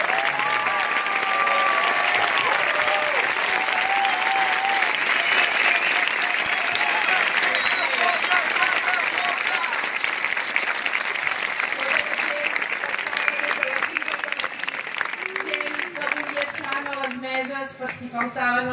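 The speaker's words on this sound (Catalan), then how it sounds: "us necessito aplaudir-vos a vosaltres" Long, steady applause from an audience after the mayor's final speech, dense clapping throughout with some voices and cheers mixed in.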